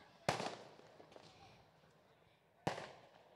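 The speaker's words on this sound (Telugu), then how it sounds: "ఏమిటి ఈ సెలబ్రేషన్స్, ఈ టపాకాయలు ఇప్పుడు ఆగేలాగా లేవు." Firecrackers go off at a film pre-release event for the movie Bhimaa: two sharp, loud bangs about two seconds apart, each trailing off, with faint crowd murmur underneath.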